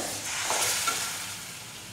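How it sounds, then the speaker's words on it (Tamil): Tomatoes and spices sautéing in a pan for a bitter gourd tamarind curry, a soft, even sizzle and hiss with a faint stir near the middle, close and steady. "தக்காளி ஊற்றுறேன் இதெல்லாம் நல்லா வதங்கட்டும்"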